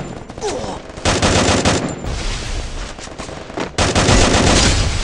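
Rapid gunfire from a Free Fire battle-royale match using a double A94 rifle, loud close bursts of automatic shots in repeated clusters with brief pauses, a faint voice underneath.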